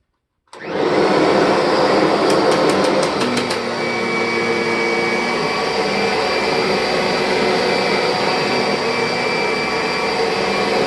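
Kirby and Electrolux vacuum cleaners run together during a sand pickup test, a loud steady motor roar that starts abruptly and holds constant, with a brief burst of rapid clicking early on and no talk.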